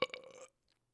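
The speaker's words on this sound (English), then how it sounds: "That burp was brought to you by Yingling" A single short, loud burp close to the microphone, rough and croaky, lasting about half a second before abrupt silence.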